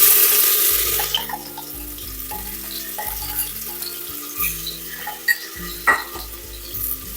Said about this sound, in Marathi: पेस्टला सुद्धा छान आपल्याला भाजून घ्यायचं आहे.